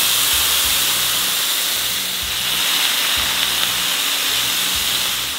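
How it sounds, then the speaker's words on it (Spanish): Chicken breasts stuffed with bacon hiss and sizzle steadily as they brown in a pot, a loud, close, continuous fry noise with no talk. "Es una doradita nada más para que suelte un poquito los jugos."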